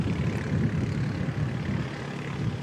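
A C-17A military transport aircraft arriving at Christchurch Airport, its engines giving a steady, fairly distant low roar with no talk over it.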